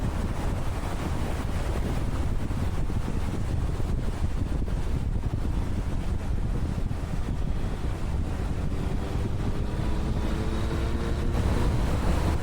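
Desert wind tears past a motorcycle rider on FM 170 River Road in Texas, a loud, constant rushing buffet that fills the whole stretch without a break.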